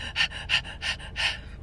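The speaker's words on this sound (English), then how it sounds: "She's panting" A cat in labor panting, four rapid breathy bursts in a regular rhythm, close and fairly loud, with no talk.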